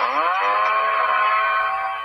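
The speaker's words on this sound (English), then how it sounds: "Oh, chainsaw!" A chainsaw in the video game Wack Your Computer revs up and holds a loud, harsh, buzzing whine, close and steady with no talk over it.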